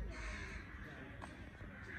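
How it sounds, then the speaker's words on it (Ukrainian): Crows cawing in a youth park, quiet and somewhat distant over a steady outdoor background hum. "Тут так багато ворін. Ворони."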